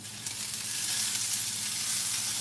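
Onions sizzle and fry steadily in a hot pan while being stirred, with a dense, even crackle that carries on without a break. No voices.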